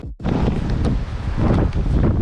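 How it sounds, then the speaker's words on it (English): Strong wind buffets the microphone outdoors on a windy day in downtown Nassau, a loud, low rumbling roar that gusts unevenly after a brief dropout at the start. "It is pretty windy today."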